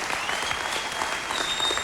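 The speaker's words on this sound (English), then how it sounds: "would you please applaud" Audience applause for a country singer at a concert, a steady dense burst of clapping from a crowd that holds even and loud throughout, with no voices rising above it.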